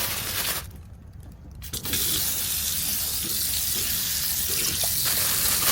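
Tap water runs steadily into a sink while blood is washed for a Thai home-cooked dish, a continuous close splashing stream that briefly dips quieter before resuming at full flow.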